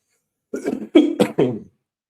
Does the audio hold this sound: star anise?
no